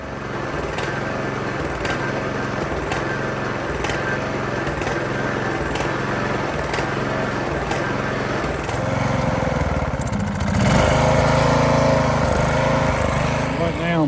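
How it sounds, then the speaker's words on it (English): A Craftsman lawn mower engine runs steadily and loud up close, a constant droning putter that swells slightly louder near the end, with no voices over it. "So I just want to run it for a second, see what it really does."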